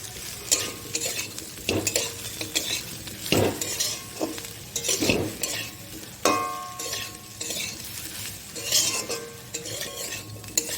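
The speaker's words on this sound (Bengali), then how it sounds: "মশলাগুলোকে ভালো করে একটু ভেজে নেব।" Spoon stirring Kashmiri chili and coriander powder as they fry in a pan, with soft sizzling and repeated scraping clinks of utensil on metal in an uneven rhythm, nearby and moderately quiet.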